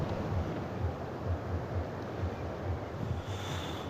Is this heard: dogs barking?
no